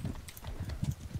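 Hooves of a horse in the medieval combat game Bannerlord beat a quick, steady clip-clop, close and fairly loud, with no talk over it.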